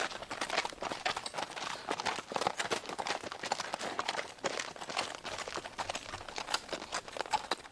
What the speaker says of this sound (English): It was the clip-clop of horses' hooves and the wheels of a coach approaching over the cobblestones outside in Church Street.